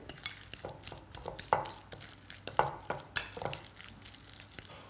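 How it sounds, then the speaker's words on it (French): Cooked potatoes mashed and stirred into a purée in a bowl, rhythmic scraping and tapping of a utensil against the dish at a steady pace, close and fairly quiet. "Alors j'écrase bien, je mélange bien pour obtenir une purée"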